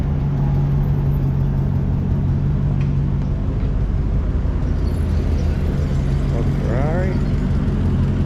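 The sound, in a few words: Ferrari car engine passing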